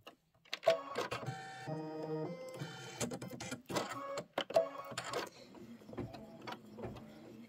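An embroidery machine stitches registration marks in black thread, whirring steadily at close range with tonal motor hums that shift in pitch and brief pauses between runs.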